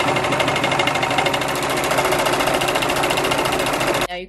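A Brother 1034DX serger runs at full speed, shaking as it goes, producing a loud, rapid mechanical chatter that is steady for about four seconds before stopping abruptly.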